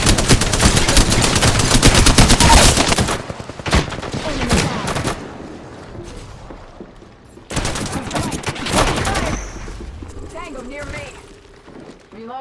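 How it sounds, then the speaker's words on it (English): Video game gunfire in a squad shooter, bursts of rapid automatic shots up close, loud and dense, interrupted by pauses, with a player talking over the action. "Listen up, I'm getting shot at."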